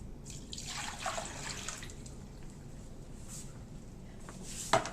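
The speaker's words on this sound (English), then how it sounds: "Now we need to dump out all of this water because we're going to reuse this tub." Water splashes and pours out in uneven gushes, with a few drips and a sharp clunk near the end, fairly close and quiet.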